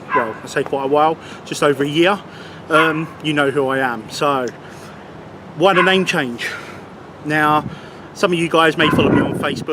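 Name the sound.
dog barking on a public walkway by the River Thames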